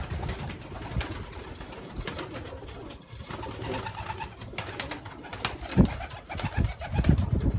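Erdemitli Bulgarian breeding pigeons coo repeatedly in low, throaty bursts, close by, with rustling and other bird calls filling the background.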